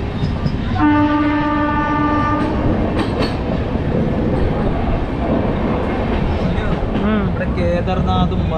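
A broad gauge passenger express rolls toward Uttarakhand, heard from inside a carriage as a loud continuous rumble and rattle, with a horn blast early on and people talking over the noise.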